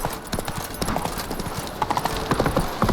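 Horse hooves gallop in The Witcher 3, a quick, steady clip-clop rhythm of hoofbeats, close and clear throughout, with a faint voice briefly beneath.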